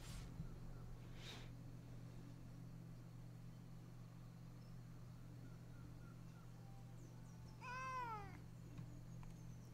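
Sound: cat meowing

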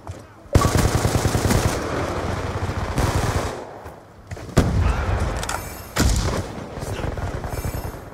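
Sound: gunfire in the video game Call of Duty Black Ops 2

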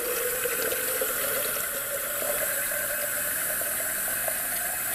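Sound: can of water being poured into a soup pot

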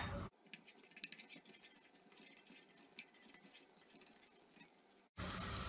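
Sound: diced onions sautéing in oil in a pot

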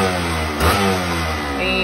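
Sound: old motorcycle engine starting and revving

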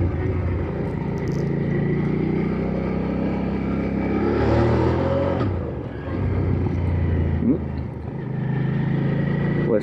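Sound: Hyosung GV650 Aquila cruiser motorcycle accelerating

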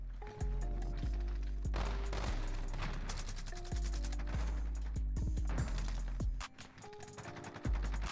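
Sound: gunfire in Call of Duty Modern Warfare video game

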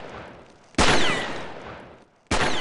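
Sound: M4 Super 90 shotgun firing repeatedly, from a video game

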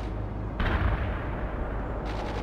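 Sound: artillery and gunfire in the video game World in Conflict

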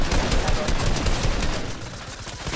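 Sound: gunfire in the video game Fortnite

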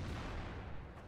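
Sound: artillery shot in World of Tanks video game

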